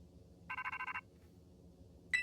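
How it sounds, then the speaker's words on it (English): A phone rings in the video game Pokemon Violet, one quick burst of rapid electronic trills followed by a short gap and a bright chime, heard over soft background music. "Oh, I get a phone call."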